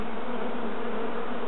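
Honey bees buzz in a steady, dense drone during an open beehive inspection, the swarm of wings close and continuous with no talk over it.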